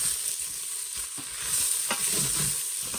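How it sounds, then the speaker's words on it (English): Pork and onions brown in a pan, a close, steady frying sizzle with occasional light scrapes and stirring clicks. "I'm just going to let this start browning here in the pan"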